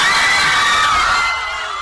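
A crowd screams and shouts in a news report, a loud continuous wash of high voices that fades slightly toward the end.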